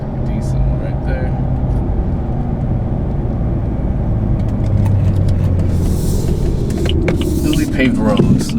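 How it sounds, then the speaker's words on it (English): A BMW 435i xDrive with a CTS turbo intake drives in sport mode on a smooth, freshly paved road, heard from inside the cabin as a continuous loud engine and intake rumble that swells near the end. "Sounds really nice in the cabin."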